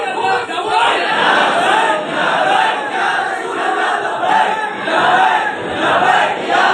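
A large crowd at a religious gathering in Nagpur shouts slogans in loud, rhythmic waves of massed voices, each call rising and fading in steady repetition.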